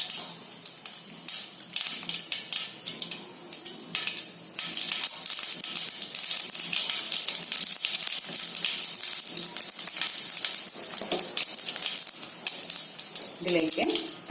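Mustard seeds and cumin sizzling in hot oil for egg bhurji, a steady loud crackle with seeds popping, heard close and continuous throughout with no talking over it.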